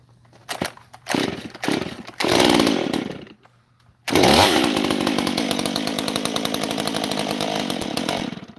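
A gas chainsaw engine sputters through a few short bursts and stops, then catches and runs steadily at a loud, close, buzzing idle until the end.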